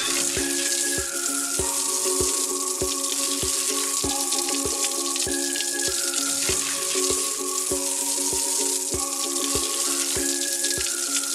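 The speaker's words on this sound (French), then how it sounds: "Mais d'abord, il faut faire la vaisselle." Water running steadily from a tap while dishes are washed, a continuous hiss with regular clinking taps repeating through it. Music plays underneath and no one speaks.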